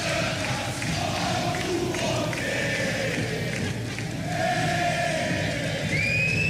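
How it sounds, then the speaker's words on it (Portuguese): Guarani football fans singing together in the stadium during a Brasileirão Série B match against Sport, a broad, steady crowd chant heard at a distance with rising and falling sung phrases. "Torcida canta, vamos ouvir, aumenta o volume"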